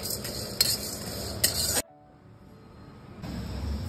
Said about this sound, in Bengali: দিয়ে এটাকে একটু ফ্রাই করে নিচ্ছি, হালকা ফ্রাই করে নিয়ে এটা ভাজা ভাজা হয়ে গেলে